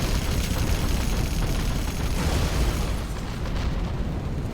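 Spectre gunship strike in a strategy video game, a continuous loud barrage of booming explosions and rapid gunfire rumbling densely for several seconds, easing slightly near the end.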